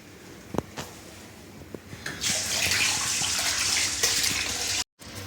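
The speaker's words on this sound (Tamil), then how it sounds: "ரெண்டு 3 தடவை சுத்தமாக கழிஞ்சிக்கலாம்." Running water pours steadily as soaked rice is washed, with a few small clinks and knocks of a vessel before the flow starts, then a continuous close splashing gush that cuts out briefly near the end.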